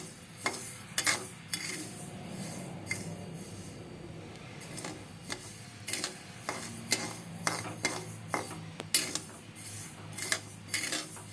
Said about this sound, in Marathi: हे सर्व साहित्य आपण थोडं थोडं भाजून घेणार आहे